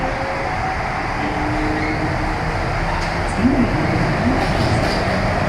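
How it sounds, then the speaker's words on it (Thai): Inside Hong Kong airport's inter-terminal shuttle train, a steady rolling rumble and hum of the carriage runs throughout, with a faint murmur of voices in the background. "จำเป็นต้องนั่งรถไฟแบบนี้นะครับ เพื่อจะต่อไปที่เทอร์มินอลหนึ่ง"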